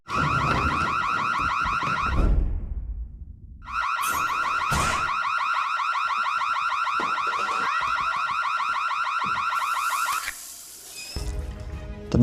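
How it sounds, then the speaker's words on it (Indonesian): A kitchen alarm in the film Hush goes off while something is baking, a loud, rapid electronic beeping in steady repeating bursts that stops and restarts, with noisy thumps and clatter in the gaps. "ternyata sebuah alarm berbunyi akibat Medi lupa kalau dia sedang memanggang sesuatu"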